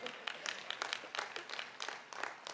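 A crowd applauds at a university Ph.D. graduation ceremony, with brisk, fairly distant clapping in uneven bursts that rise and fall over a couple of seconds.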